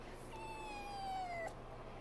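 A newly adopted kitten gives a single drawn-out, high meow that slides slowly downward, close and clear over a steady low hum and faint room noise.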